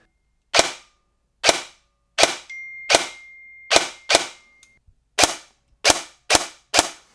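KWA airsoft AEG with upgraded Mod 2 gearbox and adjustable trigger fires ten sharp, snappy single shots at irregular intervals, each a crisp loud crack with short decay, and a faint whir after one shot.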